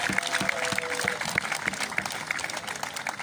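An audience at an outdoor concert at Torre Cajetani applauds, an even spread of clapping with some louder close claps and a faint crowd murmur running through.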